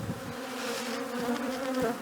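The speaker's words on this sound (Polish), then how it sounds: "Pszczoły oczywiście są pobudzone." Agitated honeybees buzz at an opened hive during a February colony and food check, a dense continuous drone with a steady hum and no pauses.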